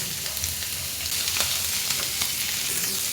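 Shredded chicken frying in a pan, a loud, continuous sizzle with crackling spatters, close and unbroken for the whole stretch.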